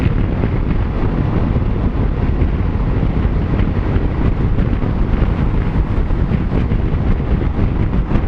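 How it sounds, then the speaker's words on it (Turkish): Steady, loud wind roar buffeting the microphone throughout while riding a Yamaha Xmax 250 scooter, a continuous broadband rush with no talking, as if riding fast in open air. "Ne kadar rüzgar vuracağını bir görelim bakalım."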